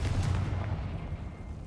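In Hogwarts Legacy, a Confringo spell explodes in a deep, booming rumble that fills the short moment, loud and heavy with no voices over it.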